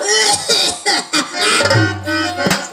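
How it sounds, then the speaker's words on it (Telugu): A few loud, close coughs come in short bursts, spaced out with brief pauses between them. "ఒక్కసారి దగ్గవా?"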